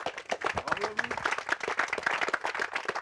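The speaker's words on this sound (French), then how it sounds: "Puis on vous applaudit" Applause and clapping from an audience at a gathering about passing on a Nice olive grove, a moderate burst of hand claps with some voices mixed in, fairly close and steady for a few seconds.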